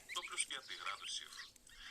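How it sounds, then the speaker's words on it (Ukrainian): Geese grazing honk and cackle softly in short, scattered calls, faint and nearby, with no other sound around them. "Гуси пасуться."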